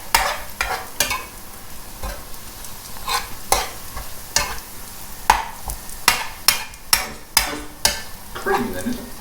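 Creme fraiche sauce stirred in a sizzling pan for steak night, with repeated scraping strokes of a utensil against the pan, coming in a quickening rhythm over a constant close frying hiss.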